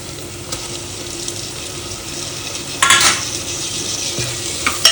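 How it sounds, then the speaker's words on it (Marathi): Tomatoes sauté with garlic in a pan, giving a steady hiss and soft sizzle, with a brief louder scrape of stirring midway and a clatter at the end. "टोमॅटो चांगले नरम पडेपर्यंत आपल्याला परतायचे आहे"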